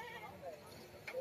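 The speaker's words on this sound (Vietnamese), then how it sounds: "Chắc con dê." A goat bleats briefly near a burned-out vehicle on a windy mountain pass in Vietnam, a short, faint cry heard under people talking.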